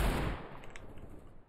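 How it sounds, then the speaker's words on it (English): A single loud gunshot from Counter-Strike: Global Offensive, close and heavy, followed by a decaying ringing tail with no speech. "Toms on our team keep shooting me in the back"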